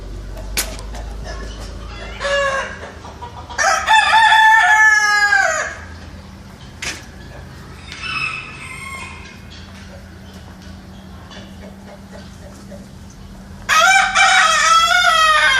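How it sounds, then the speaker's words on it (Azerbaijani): A francolin at a bird-keeping place in Iran gives loud, harsh, repeated calls in three close bursts, separated by quiet stretches with faint background birds. "Bu Turazdır deyəsən, ha?"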